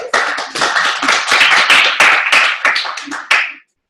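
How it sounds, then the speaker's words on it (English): A small group claps together at a monthly meeting, sharp individual hand claps forming an uneven burst of applause that continues for a few seconds before cutting off abruptly. "Let's clap for everyone."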